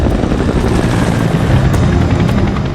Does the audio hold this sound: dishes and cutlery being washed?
no